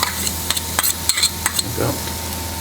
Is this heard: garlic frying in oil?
yes